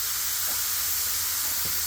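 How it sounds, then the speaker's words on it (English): Water steaming noodles on a hot Blackstone griddle, a steady soft hiss running throughout at moderate level with no talking. "I'm just trying to steam them."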